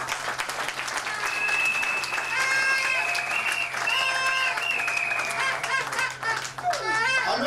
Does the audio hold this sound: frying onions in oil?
no